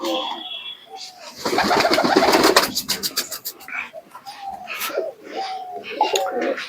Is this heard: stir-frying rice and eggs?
no